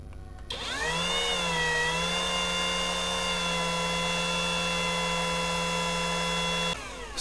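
A Modern M80 cordless wood trimmer runs at speed 1, spinning up quickly into a steady, high-pitched whine that holds evenly at close range for several seconds before cutting off.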